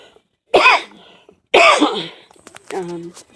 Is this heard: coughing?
yes